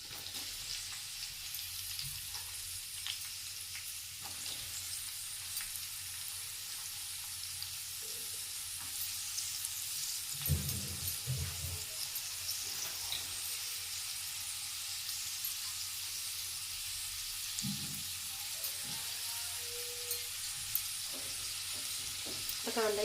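Chopped onion sautéing in a pan for a methi bhaji, a steady broadband sizzle throughout, with occasional stirring scrapes and soft clatter, no talk.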